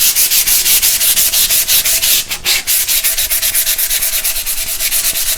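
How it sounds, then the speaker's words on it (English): Steady back-and-forth sanding on an old wooden desk, a dense rhythmic scratchy rasp repeating in quick even strokes, close and loud, with a brief pause near the middle and no talk. "So let's just give it a slight sand."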